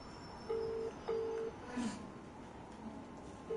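A phone rings in short, evenly spaced electronic tone bursts, repeating about every half second at moderate loudness over a quiet background, with no talking.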